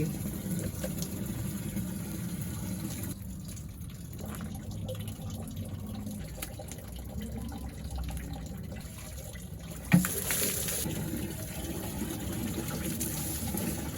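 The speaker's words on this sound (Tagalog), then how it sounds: "lalagyan na natin ng tubig" Steady rushing of water pouring into a bucket, continuous and fairly close, with a brief knock partway through and no talking.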